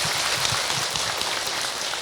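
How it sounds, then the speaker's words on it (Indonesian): Audience applause at an Indonesian dakwah (Islamic sermon) gathering, a steady dense wash of many hands clapping throughout, with no talk over it. "Tepuk tangan untuk kita semua"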